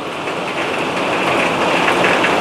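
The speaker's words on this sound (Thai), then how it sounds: "เริ่มเทแล้วน้ำเริ่มเทมาหน้าบ้านแล้ว" Heavy rain pouring down in front of a house, a dense continuous hiss of drops striking surfaces, loud and steady and slightly swelling, with no voices.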